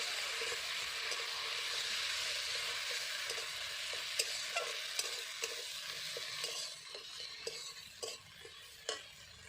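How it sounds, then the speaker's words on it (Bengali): Dried red chili paste, with cumin paste, sizzles steadily in a pan for a fish curry while a utensil stirs it, giving scattered scraping clicks over a constant close frying hiss, with no talk. "শুকনো লঙ্কা বাটা একটু নাড়াচাড়া করে"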